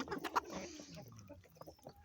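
Farmyard hens, including naked-neck chickens, cluck and squawk in a few short, soft bursts near the start, then fade to faint scattered sounds nearby.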